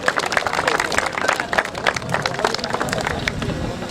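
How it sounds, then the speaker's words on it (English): An audience at a Jeddah cricket final ceremony applauds, with a steady patter of many claps mixed with crowd murmur and talking across the whole stretch. "round of applause for him"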